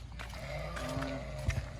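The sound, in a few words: goats bleating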